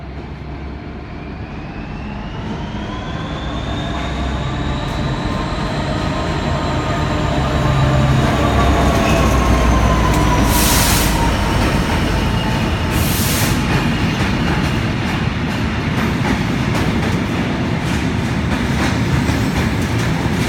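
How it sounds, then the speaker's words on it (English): An EWS Class 66 diesel freight train rumbles through Exeter St David's station, a loud, sustained roar with a rising engine whine and rolling wheel noise that builds and holds for about twenty seconds. "Short little clip of a freight train"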